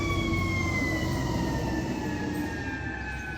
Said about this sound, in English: now we got sirens coming.